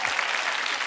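Studio audience at a televised Telugu quiz show applauding, a dense, even burst of clapping from many hands in under a second.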